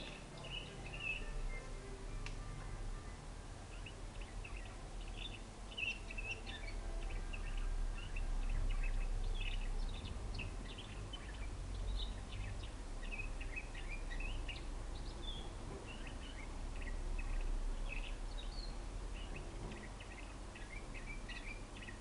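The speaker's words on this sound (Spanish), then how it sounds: "Como vemos, está dando las primeras notas ya los pajaritos." Young Timbrado canaries in song cages try out their first notes, giving scattered soft chirps and short twittering phrases, faint over a steady low background hum with no speech.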